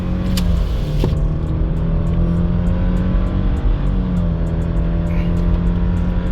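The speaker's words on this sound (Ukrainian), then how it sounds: "Зараз спробуємо розігнати її від нуля до сотні." A 2018 Subaru Forester 2.5 Touring with an automatic gearbox accelerates hard from a standstill to 100 km/h. The engine drone is loud and steady from inside the cabin and rises in pitch, uphill and into a bend.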